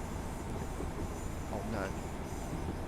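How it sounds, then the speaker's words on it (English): Train noise on a Scottish rail line between Glasgow and Oban, a steady rumble with brief squealing wheel tones mid-clip, heard under a voice speaking. "Where's that train? Oh, where's the other train? Making crazy noises."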